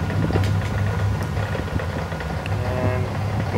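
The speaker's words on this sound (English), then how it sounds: "And go ahead and bring in reverse thrust." Boeing 737 engines spooling into reverse thrust on the runway in a flight simulator game, a steady broadband roar that holds constant throughout, with faint rattling textures on top.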